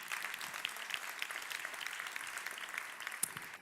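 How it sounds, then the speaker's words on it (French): Longtime members of a theatre audience in Paris applaud the newcomers at a customer-relations awards evening, a continuous wash of many hands clapping at a fairly distant, even level. "Donc les anciens, vous pouvez applaudir les nouveaux et leur souhaiter la bienvenue."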